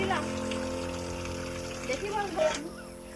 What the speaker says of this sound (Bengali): মাছটাকে আমি ভালো করে চটকে ধুয়ে নেব